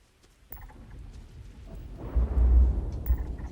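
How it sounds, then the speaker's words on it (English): Rain patters steadily in the video game Starfield while a deep thunder rumble swells midway and rolls on, growing louder toward the end. "Rain in here too in the game."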